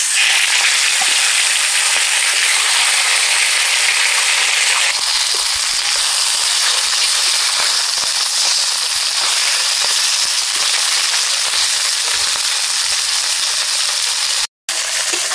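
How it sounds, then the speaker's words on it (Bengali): A fish head fries in hot oil in a kadai, giving a loud, dense, continuous sizzling hiss up close that cuts out briefly just before the end, with no voices. "এবারে মাছের মাথাটা ভেজে নেব।"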